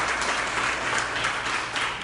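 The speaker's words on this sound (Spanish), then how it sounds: "Démosle un aplauso al Señor por la sierva" A church congregation applauds in a steady, dense wash of clapping that lasts the whole short stretch at moderate volume, with no voices standing out.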